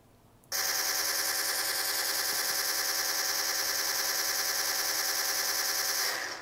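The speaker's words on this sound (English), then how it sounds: "And then you press the selector again, and you've got the rapid fire, the normal mode." DC-17m blaster prop firing in rapid mode, a sudden loud buzzing electronic burst of fast repeating shots that holds steady for several seconds and then cuts off.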